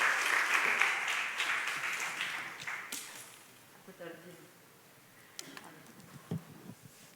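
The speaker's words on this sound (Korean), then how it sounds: "박수로 환영합니다" Audience applause at a pastors' seminar welcomes a pastor's wife to the microphone, full and lively at first, then thinning and fading over a few seconds into a quieter room with scattered small sounds and voices.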